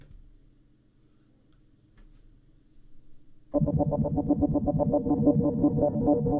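Orbit synthesizer with the chop gate effect engaged: after a quiet low hum, a loud rhythmic synth pattern suddenly kicks in, pulsing in rapid even stutters and continuing steadily.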